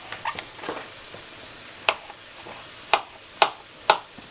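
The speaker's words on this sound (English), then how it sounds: "I'm just going to chop up these couple of chestnut mushrooms." A knife chops chestnut mushrooms on a board with a few sharp, isolated cuts spaced about half a second apart, close and fairly crisp against a quiet kitchen background.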